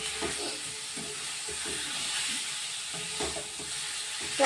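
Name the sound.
stirring chicken masala in pan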